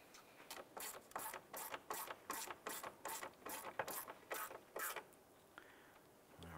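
A screw is driven in during an A/C condenser installation on a 2011-2019 Ford Fiesta, heard as about a dozen evenly spaced, close ratcheting turns at a regular rhythm, then a brief pause.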